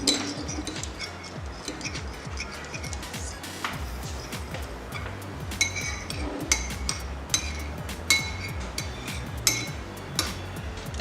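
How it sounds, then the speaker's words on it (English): Spoon stirring saffron flour into rose water in a small glass or bowl, with repeated light clinks and scrapes against the sides at an uneven rhythm, close up and fairly quiet. "We stir properly."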